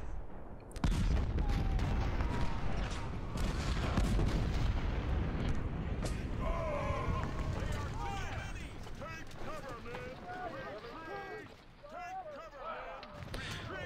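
Infantry musket volleys crackle and boom in a Civil War strategy game battle, dense overlapping gunfire rolling continuously under a busy mix of shouts and battle noise.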